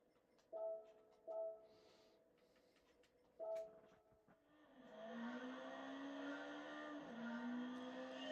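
An HPD-Reynard S2000 road car with a dog-box gearbox in Gran Turismo 7, a few brief tones before its engine note swells and holds steadily, shifting pitch once as the car pulls away.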